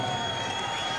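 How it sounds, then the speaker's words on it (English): A basketball arena crowd applauds during an NBA playoff game between the Lakers and Trail Blazers, a brief, faint smattering of clapping under a dull constant crowd murmur. "A smattering of applause."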